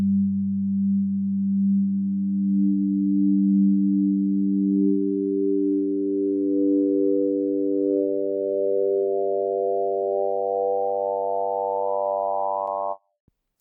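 A synth riser climbs steadily, its filter swept all the way open so a buzzy sine-based tone brightens and gains rising harmonics over about thirteen seconds, loud and alone before cutting off abruptly.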